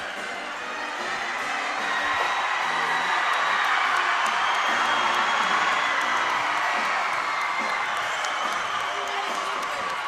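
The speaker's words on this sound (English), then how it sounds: "The Gator fans are cheering." Gator basketball fans at a game roar and cheer after the final whistle, a broad crowd swell rising after the first second and holding loud, with voices mixed in.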